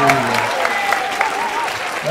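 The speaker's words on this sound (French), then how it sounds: "On applaudit." Brief applause from an audience at a magic and mentalism show as a volunteer is called up, steady clapping with crowd voices and talk mixed in.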